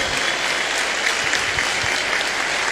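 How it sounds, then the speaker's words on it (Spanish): A church audience breaks into loud, steady applause, dense clapping filling the room evenly from start to finish with no one speaking over it. "Un fuerte aplauso para ellos que se convirtieron y volvieron a la iglesia como Pablo."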